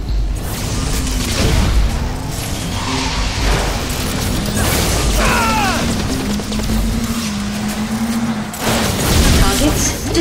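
Satellite laser strike firing in the Cars 2 racing video game, a dense roaring barrage of blasts and crashes layered over engine drone and game music, loud and continuous, with a game voice announcing over it.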